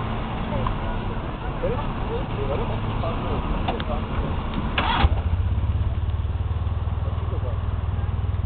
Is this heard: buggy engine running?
yes